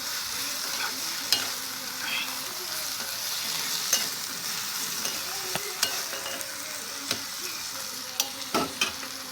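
Ginger and garlic sauté in a pan for a spicy pepper-cumin chutney, a constant close sizzle broken by frequent scraping and stirring clicks of a spoon.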